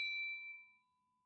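A bright notification bell ding sounds once and rings cleanly, then decays over about a second, alone and with no talk.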